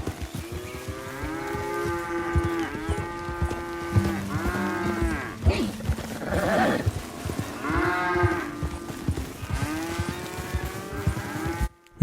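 Cattle in Red Dead Redemption 2 moo repeatedly, loud and close, with drawn-out overlapping calls coming in bursts over low outdoor rumble and hoof-like thuds, without talk.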